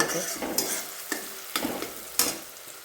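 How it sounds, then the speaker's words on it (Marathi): Curry leaves hit hot oil in a tadka for dal, producing a soft, steady sizzle punctuated by several sharp crackles and stirring scrapes. "थोडा कढीपत्ता घालूया तडक्याला"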